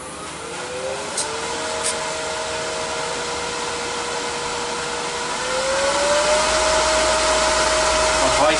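A wood lathe spins a small yew hollow form at high speed while it is burnished, giving a steady whining hum with a tone that rises partway through, continuous and fairly loud with no talk.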